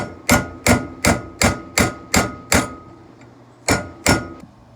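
A hammer strikes a cold chisel, lifting the corners of a barrel tenon on a smoothbore barrel: nine sharp, ringing metallic blows at a steady pace, close and loud, with a short pause before the last two.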